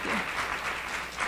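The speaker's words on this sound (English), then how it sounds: "Can we get her a nice round of applause?" Steady clapping from an audience at a Carnatic music competition, a dense continuous patter of many hands with no voices breaking through.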